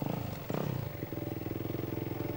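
A motorcycle passes close by with a rough pulsing mid-pitched engine note, a brief louder burst as it goes by, then a steady chugging drone.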